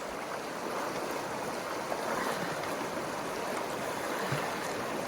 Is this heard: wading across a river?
yes